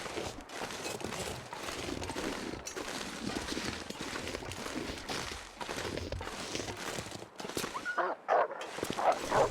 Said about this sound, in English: That's a smart dog.